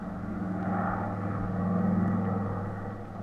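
An airplane takes off as a radio drama sound effect, a steady propeller-engine drone with low rumble that swells slightly and holds at moderate loudness, alone without voices.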